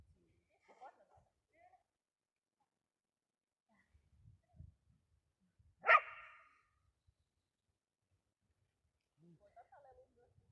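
A single sharp dog bark rings out clearly near the middle, with quiet, sparse sounds and faint movement before and after.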